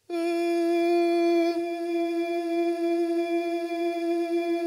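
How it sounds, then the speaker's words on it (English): A sung vocal note is held by a TC Electronic Infinite Sample Sustainer pedal as a smooth, continuous drone, with a brief shift in tone early on and then an even, seamless sustain. "Now if I were gonna do this with the TC Electronic Infinite pedal, it would sound like this."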